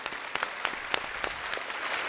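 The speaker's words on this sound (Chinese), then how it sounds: "来，我们鼓掌，谢谢其他的孩子们，谢谢你们。" Scattered hand claps from a studio audience on a TV challenge show, thanking a group of children; the distinct, separate claps are fairly soft and overlap loosely.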